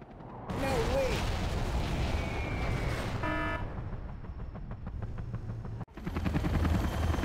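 Gunfire and explosions ring out during a base attack in the Command & Conquer Generals video game, with rapid automatic bursts, booming hits and brief game tones blended with unit voice lines.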